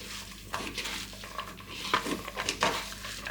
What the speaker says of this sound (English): And then once you're done with all that, give it a good mix.